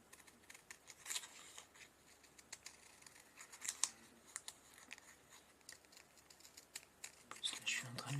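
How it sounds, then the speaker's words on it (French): Scissors snip through a paper strip for a handmade embossed card, a faint crisp rustling cut with a few sharper snips, quiet and close with a soft voice in the background. "Je vais le couper de blanc complètement"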